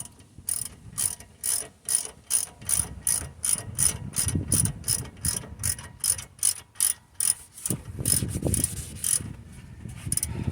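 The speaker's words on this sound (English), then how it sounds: "I'm in the process of installing the caliper. 2 bolts." A ratchet clicks in quick, regular bursts while tightening the two front brake caliper bolts on a Cadillac Escalade ESV, close and crisp, with a short pause before the clicking resumes.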